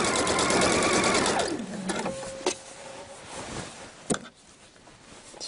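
A sewing machine stitches the neckline of a hoodie, running fast and loud up close before slowing and stopping. A short whine and a couple of sharp clicks follow.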